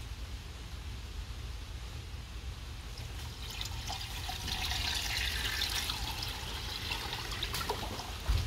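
Water sloshes and trickles steadily as a Stormtrooper helmet is pushed down into a hydro dip tank, with a brief swell of bubbling and splashing midway.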